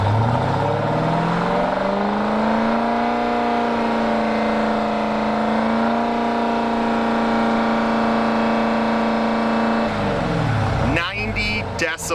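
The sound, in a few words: stock car exhaust revving during police decibel test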